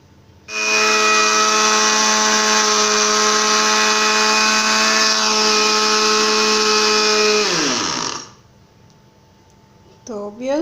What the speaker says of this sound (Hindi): ठंडा करके ग्राइंडर में डाल के पीस के फिर आपसे मिलती हूँ